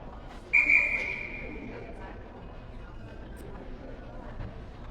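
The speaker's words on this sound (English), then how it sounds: "Refs blow the whistle to end the timeout" A referee's whistle gives one sharp, shrill blast to end a timeout at a hockey game. The rink crowd murmurs and people talk throughout, and the whistle fades into the ongoing arena babble.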